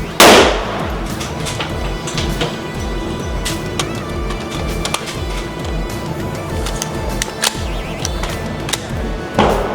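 An HK416 rifle fires, with sharp cracks at the start and end of the stretch and smaller clicks and handling noises in between, loud and close.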